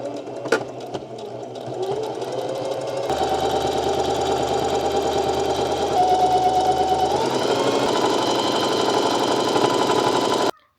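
A sewing machine quilts straight lines across a fabric panel, running loud and close with a continuous mechanical whir that shifts speed a few times before stopping abruptly at the end.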